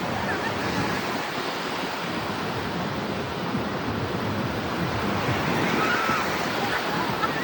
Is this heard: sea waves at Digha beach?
yes